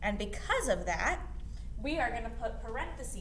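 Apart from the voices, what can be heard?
No distinct noise like a dog, phone or traffic.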